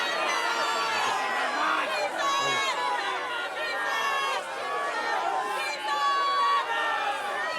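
An outraged crowd in a Passion of Jesus play shouts and yells over one another, a dense, wavering babble of raised voices with sharper cries rising above it.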